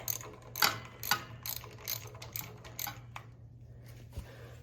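A ratchet with an extension clicks through a series of sharp, close strokes while loosening the carburetor nuts on a lawn tractor, the bursts irregular and tapering off, with a faint steady hum underneath.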